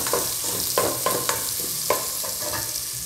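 Garlic frying in a pan for a red noodle dish with chicken, giving a steady close sizzle broken by several sharp clicks and scrapes of stirring.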